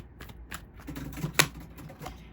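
A short riffle of playing cards being shuffled, brief papery flutters ending in a crisp snap, close and fairly quiet.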